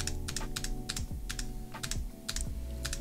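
Computer keyboard keys tapped in quick clusters of sharp, close clicks, a few short bursts spaced across a few seconds, with a steady hum underneath and no talk.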